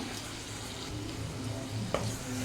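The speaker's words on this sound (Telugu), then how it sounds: "ఇందులోనే ఒక టీ స్పూన్ అల్లం వెల్లుల్లి పేస్ట్ వేసుకుంటున్నాను" Ginger garlic paste frying with chicken in a pan for a chilli chicken curry, a steady close sizzle with a faint clink of stirring near the end, no talk.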